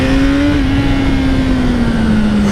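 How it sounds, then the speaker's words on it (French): The four-cylinder engine of a 2018 BMW S1000R motorcycle holds a loud, droning high rev with a slight drop in pitch, close and continuous, with rushing wind noise underneath. "quand le 4 cylindres là se met à hurler comme ça, c'est vraiment un plaisir."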